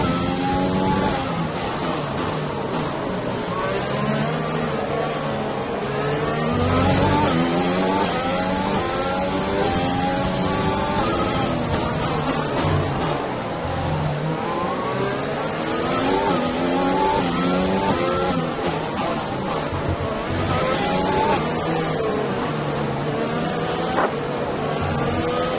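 Formula 1 car in F1 2020 at the Azerbaijan Grand Prix, its engine screaming and rising and falling through repeated gear changes over a long stretch of racing, with faint talk mixed in.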